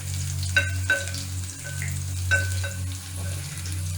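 Onion frying crisp in a pan for red masoor lentil curry, a continuous sizzle under a low steady hum, punctuated by several sharp clinks and scrapes of stirring.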